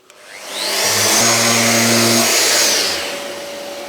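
Festool sander running with a 400 grit abrasive: a steady electric whine that spins up, holds at a loud, even level for about two seconds and then winds down, with no talk over it.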